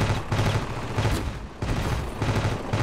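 Rapid machine gun fire in the Ravenfield battle game, with dense bursts of shots stuttering close and loud and a brief gap partway through before the firing resumes.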